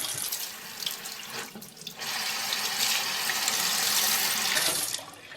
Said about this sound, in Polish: Oskrobaną z rybę myję pod zimną wodą.